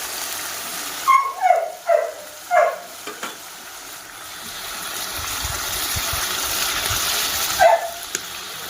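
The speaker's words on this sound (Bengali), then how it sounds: "আমার বড় দাদাটা কুকুর আছে, সবসময় ঘেউ ঘেউ করতে থাকে" A pet dog gives a short run of four sharp barks, then a single bark several seconds later. The barks are moderately near, over a hissing, gushing background like water or steam in a kitchen.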